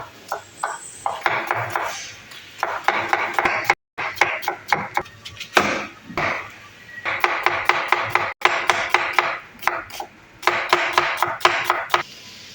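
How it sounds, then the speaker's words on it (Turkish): Quick, rhythmic knife chops slicing onions into half-moons on a cutting board come in rapid bursts with short pauses between them, close and crisp, and no one speaking. "Şimdi ciğer için soğanlarımızı doğruyoruz"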